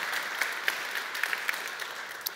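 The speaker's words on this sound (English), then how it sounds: "one last big hand of applause for Nick" Applause from a conference audience at a Drupal event, fairly faint and steady with scattered sharper claps standing out over a diffuse wash, no voices.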